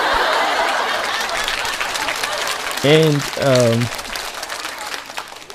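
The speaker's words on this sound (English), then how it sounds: "She deserves a hand of applause" A crowd applauds steadily throughout, a broad wash of clapping, while a voice briefly speaks partway through.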